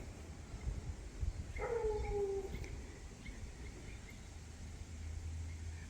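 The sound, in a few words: neighbour's big dog barking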